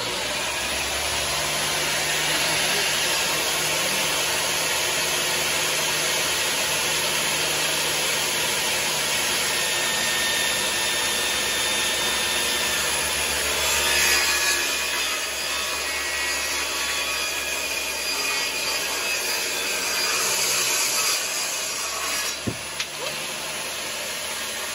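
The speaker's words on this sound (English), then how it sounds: "So we're gonna use the table saw here." Table saw cutting reclaimed wood for a bathroom shelf, a steady loud broadband roar lasting throughout with slight changes in tone as the blade works through the board.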